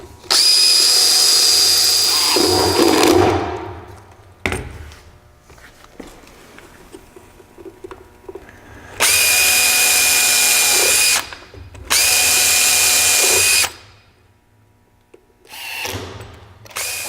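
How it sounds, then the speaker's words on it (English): Power drill boring screw holes to attach a door hinge: loud whirring bursts of drilling, several separated by short pauses and quieter handling, close by with no talk. "and we can drill our holes."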